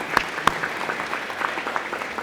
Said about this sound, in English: Dan, let's give you a round of applause for everything that you do.